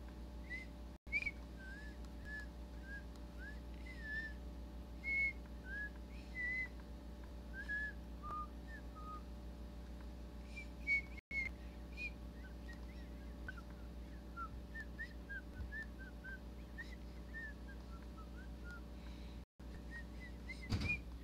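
Someone whistles a soft, wandering tune over a low electrical hum, with a few faint clicks.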